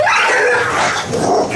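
A dog barks and yips aggressively at an animal shown on the television indoors, a dense, loud, continuous outburst close to the listener.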